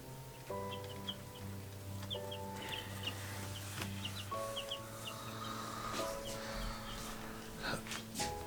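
Tiny day-old chicks peep with short, high chirps while feeding and drinking in a home brooder, scattered over a steady low hum and clucky background fowl noise, no talking.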